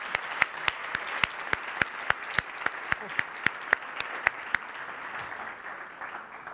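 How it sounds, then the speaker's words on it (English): Applause from a sustainability workshop audience, a soft steady patter of clapping in a hall with sharp individual claps standing out in a fairly regular rhythm, fading slightly toward the end. "I want you to give yourselves a round of applause right now because you are here."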